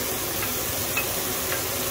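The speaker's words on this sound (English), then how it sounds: "We're gonna put our onions, celery, and garlic into the squirrel drippings with a little bit more butter." Onions, celery and garlic sauté in squirrel drippings with butter, giving a steady, close hiss and crackle of frying with faint stirring ticks.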